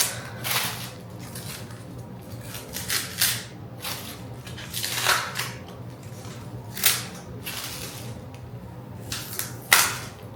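Packing tape pulled off a plant package holding a Hoya pubicalyx silver ghost, a series of sharp crackling rips and peels in irregular bursts, close by with no talk.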